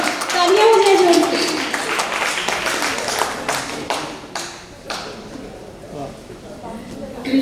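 An audience at a devotional Krishna stage performance breaks into scattered clapping that thins out over several seconds, mixed with voices at the start.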